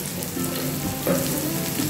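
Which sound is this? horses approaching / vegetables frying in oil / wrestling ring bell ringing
vegetables frying in oil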